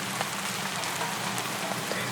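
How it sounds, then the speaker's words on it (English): Steady rain falls on rain-soaked ground at a night war camp, a dense even hiss of drops with no breaks and no voices. "The rain continues its endless descent, now a soft mist that clings to everything it touches"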